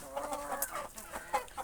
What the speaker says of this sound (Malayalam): ഇതാണ് നമ്മുടെ കോഴികൾ.